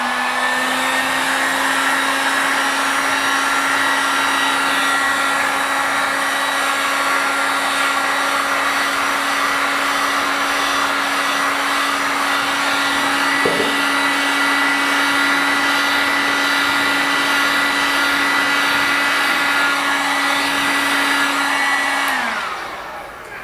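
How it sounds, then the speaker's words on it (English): A heat gun blows steadily over the tops of soy candles to smooth the wax, a loud close constant whirring hum that holds for about twenty seconds before switching off near the end. "you can take your heat gun and you can turn it on and you'll carefully heat gun the top of your candle"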